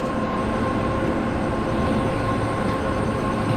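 WAP-7 electric locomotive at full throttle in a Train Simulator game, a steady loud rumbling drone of the train running with a faint high whine, constant throughout with no talk.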